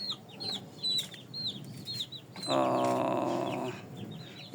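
Young chicks peep in high, rapid chirps while a hen gives a longer, louder run of clucks partway through, close by.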